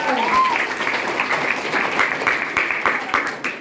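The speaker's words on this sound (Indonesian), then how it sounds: "Beri tepuk tangan." Loud applause rises from a school audience at a student council candidates' debate, a dense sustained clatter of clapping that tapers off near the end, with a voice briefly heard over it at the start.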